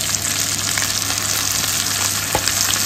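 Egg-coated fish fries in a pan with a steady, close crackling sizzle, a few sharper pops and faint stirring clatter breaking through the continuous hiss.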